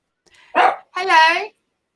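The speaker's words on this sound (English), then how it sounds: "My dog's barking still." A dog barks twice in quick succession, fairly close and loud, during a live broadcast, with the second bark longer and more tonal than the first.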